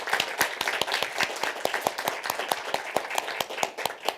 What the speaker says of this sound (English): I think that we should give them a big round of applause